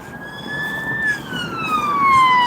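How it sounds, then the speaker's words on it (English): Ambulance sirens wail outdoors on a street, a steady rising-and-falling tone that glides gradually downward as the vehicles pass and recede, loud over a background of traffic hum. "That's 2 ambulances."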